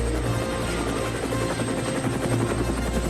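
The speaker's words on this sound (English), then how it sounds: "Harold the helicopter touched down gently in the snow" Harold the helicopter touches down in the snow, rotor blades chopping in a steady, loud, close whirring pulse that holds evenly throughout with no talking.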